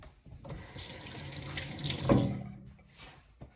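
Tap water runs into a large cooking pot in a home kitchen, a steady gushing stream that swells and deepens midway as the pot fills, then cuts off near the end; no one speaks.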